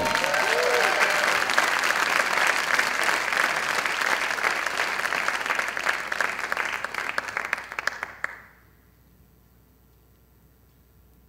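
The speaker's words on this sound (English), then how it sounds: "Will you please give a round of applause for Kim Cofino?" A large conference audience applauds steadily and loudly for about eight seconds as a speaker is introduced, then the clapping stops abruptly, leaving near silence.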